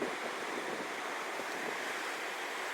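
Waves roll and crash in a windy Scottish cove in winter, a steady broad roar of surf mixed with gusting wind buffeting the microphone.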